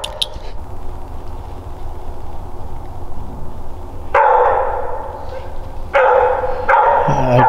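A Walker coonhound barks at a treed raccoon during a Pennsylvania night hunt, loud bursts of barking and yips close by after a quieter stretch, with voices murmuring beneath.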